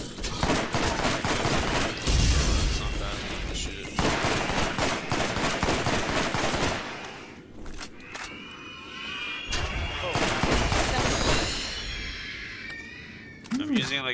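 Sustained machine-gun fire in the looter-shooter game Borderlands during a boss fight, with dense rapid bursts and volleys filling most of the stretch, briefly easing midway before resuming, while players talk over the shooting.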